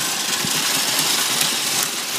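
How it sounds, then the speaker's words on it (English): Engine of a racing lawn tractor (racing mower) running steadily and fairly close, with a continuous broadband mechanical drone that holds even throughout, no talk over it. "That's Brandon's racing tractor"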